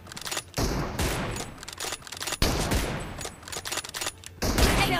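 Gunfire in PUBG Mobile team deathmatch with an M24 sniper rifle: loud, sharp, close bursts of shots and rapid fusillades come in several clusters, separated by brief gaps, with no talking.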